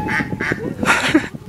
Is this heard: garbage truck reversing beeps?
no